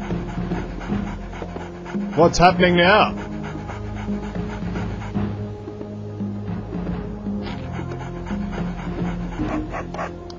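Dog panting and whimpering in the video game MDK, a steady rhythmic panting throughout with a brief louder whine partway through, while someone talks over it.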